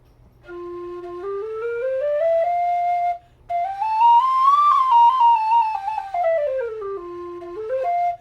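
A carbon fiber tin whistle in F plays a lilting melody with gliding notes and a brief pause, clear and bright with a slightly edgy tone.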